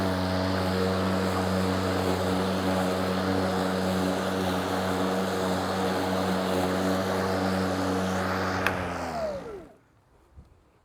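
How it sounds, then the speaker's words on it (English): A lawn mower with a Milwaukee high lift blade bags grass at close range, its engine drone steady and loud, then winding down and cutting off near the end. "Just enough here to mow in the middle and leave 2 little mohawks on the sides, bagging with the high lift blade."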